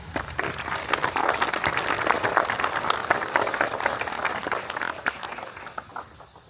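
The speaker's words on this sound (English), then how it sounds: "Let's give them a round of applause." Audience applause at a Sons of the American Revolution commemoration of the Battle of Blue Licks, a steady wash of many hands clapping for several seconds, moderately loud and sustained, with no talking over it.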